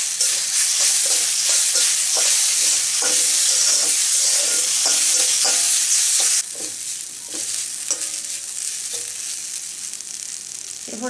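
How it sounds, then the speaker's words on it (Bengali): Chopped green chili and a little dry chili powder stirred in a hot pan for aloo paratha filling, loud continuous sizzling with repeated spatula scrapes, easing slightly partway through; no talk. "খুব ভালোভাবে নেড়ে চেড়ে নিতে হবে।"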